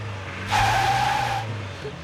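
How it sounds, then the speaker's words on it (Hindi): A car stuck on a forest track spins its wheels, giving a loud squealing skid of about one second that rises over a low, steady engine rumble and then fades back. "लगता है गाड़ी फंस गई"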